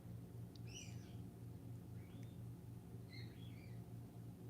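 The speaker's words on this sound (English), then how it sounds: "I just realized how my birds are chirping in the back." Pet birds chirp faintly in the background of a quiet indoor room: three brief bursts of thin, sliding calls spread over a few seconds above a low, steady hum.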